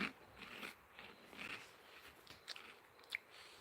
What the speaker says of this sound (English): So I'm going to have some crisps while I'm eating.